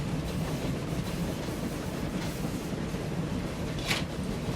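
Trains in the video game Train Valley roll along the tracks with a steady, muted rumble and faint clickety-clack, and no talk over it.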